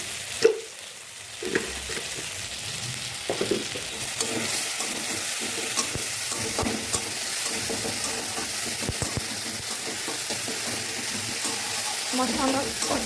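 Spice masala with a little sugar being sautéed for a moong dal made with fish head, a steady close sizzle and hiss in the pan with scattered spatula knocks and scrapes throughout.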